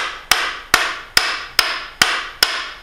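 An amaranth hardwood mallet strikes a carving chisel six times at a steady, even pace, each blow a sharp, close, bright knock that decays quickly.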